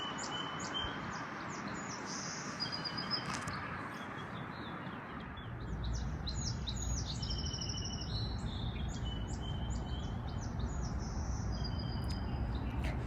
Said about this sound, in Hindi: सुबह सुबह चिड़ियों के चहचहाने की आवाज़ इतनी अच्छी लग रही है